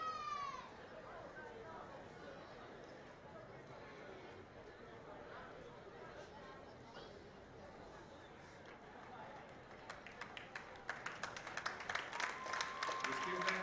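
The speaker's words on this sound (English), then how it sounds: "round of applause from the fans" Fans at a high school football game between College Park and Oak Ridge give a round of applause; faint, distant crowd noise under a commentator's voice, with scattered clapping swelling near the end.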